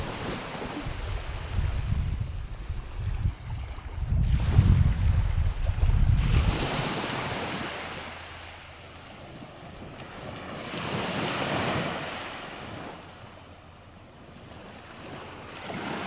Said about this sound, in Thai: นี่ทะเลจ้า